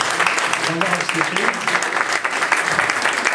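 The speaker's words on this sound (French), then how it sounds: "Donc je crois qu'on peut vraiment applaudir nos éditeurs de logiciels." Audience applause for software vendors at a vendor round-table event in Paris, a steady dense clapping throughout with some talk mixed in underneath.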